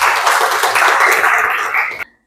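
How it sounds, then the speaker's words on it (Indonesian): Classroom students applaud together in a dense, steady burst of clapping for about two seconds, then it cuts off abruptly into silence. "tepuk tangan untuk kita semua"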